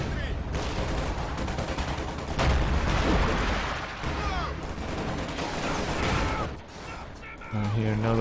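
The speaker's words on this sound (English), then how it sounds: "I hear another B4 shot going off somewhere." A B4 howitzer in Company of Heroes 2 fires amid a dense barrage of gunfire and explosions, with booming blasts and crackling shots layered continuously in a loud, chaotic battlefield mix.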